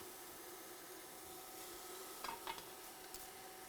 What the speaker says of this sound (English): So I'm gonna let the butter melt with the onion.